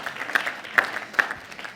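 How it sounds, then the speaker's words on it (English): Light applause from a classroom or workshop audience for volunteers, soft scattered claps with a few sharper ones standing out, fairly quiet overall. "Give a round of applause for them, please."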